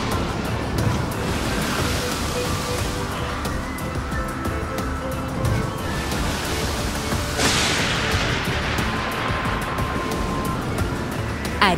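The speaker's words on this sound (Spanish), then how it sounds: "Una noche, una terrible tormenta azotó en el mar." A storm at sea roars with crashing waves and gusting wind, a dense, loud, continuous rumble that swells near the end, with no talking.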